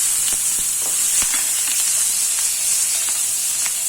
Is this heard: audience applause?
no